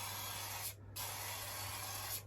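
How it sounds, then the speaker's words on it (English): An aerosol spray can lays down a coat in a workshop shed, giving two steady close hissing bursts separated by a brief pause, with no voices. "Just give it a spray"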